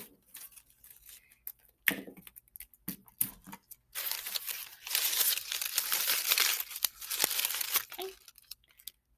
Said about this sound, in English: I'm going to tape it on the back side, just anywhere I can get it to hold together.